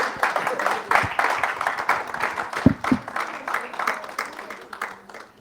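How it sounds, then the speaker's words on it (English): An audience applauds steadily for several seconds, a dense patter of clapping with a couple of sharper claps standing out. "Let's give her a hand applause."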